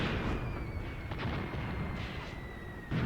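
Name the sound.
mortar fire in the video game Graviteam Tactics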